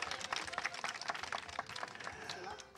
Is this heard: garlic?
no